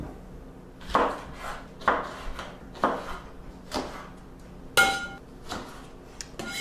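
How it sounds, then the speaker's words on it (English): Apples with skins on being chopped on a cutting board in a kitchen, a steady series of about eight firm knife thunks spaced under a second apart, close to the microphone with no talking. "Now let's chop up these apples."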